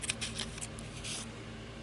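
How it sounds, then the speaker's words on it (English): Small detail scissors trim a no-sew fabric Christmas tag, making a few quick, soft snips early on, then a quieter stretch of handling; no one speaks. "trim it up with your detail scissors"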